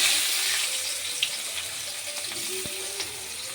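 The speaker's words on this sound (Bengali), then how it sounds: "চলো, এবার আমি দিয়ে দেবো কুচনো পেঁয়াজ" Chopped onions dropped into hot oil for a potol chingri dish set up a continuous bright, hissing fry that stays fairly loud and even, with faint clinks over it.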